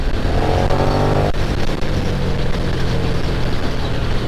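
A stock KTM 1290 Super Duke R engine runs loud and close throughout, a steady broad drone with a brief dip partway through, no voices over it.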